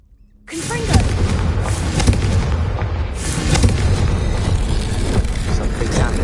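A Confringo explosion spell goes off in the wizarding game Hogwarts Legacy. A sudden loud blast is followed by several seconds of dense rumbling booms and crackling bursts, with voices talking over the spell.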